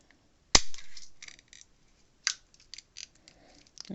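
A few sharp snips of scissors, close by: one crisp cut, then a second, followed by small clicks and handling noises.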